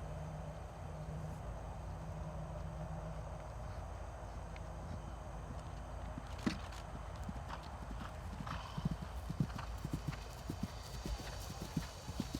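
A ridden horse's hooves clip-clop steadily at close range, with irregular sharp strikes standing out over a low background rumble.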